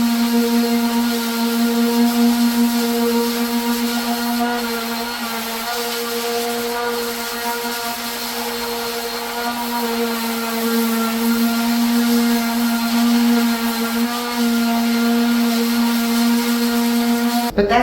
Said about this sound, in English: And I'm going to sand this whole side of this board and make this smooth.